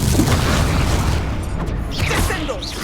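A Confringo fire spell explodes in the Hogwarts Legacy video game, a loud booming burst amid dense, continuous combat effects and whooshes, with a brief spoken spell call in the mix.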